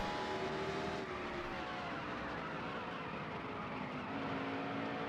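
A racing truck's engine drones steadily through a qualifying lap in a 2001 stock-car racing game, one continuous loud whine whose pitch drifts up and down with speed and never drops out.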